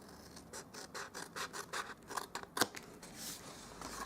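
Scissors snip through scored cardstock for a reindeer gift box in a run of close, quiet cuts with one sharper clip near the end. No voices are heard.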